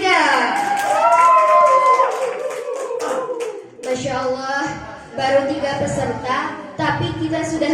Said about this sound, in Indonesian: Mana tepuk tangannya untuk nomor undian 3?